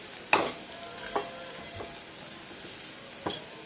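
Masala brinjal frying in oil in a pan, with a few distinct stirring scrapes and clinks over a low, steady sizzle, heard close and alone.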